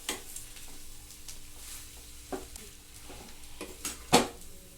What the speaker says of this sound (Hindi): तब ये मसाले अच्छे से मिला लेते हैं हम।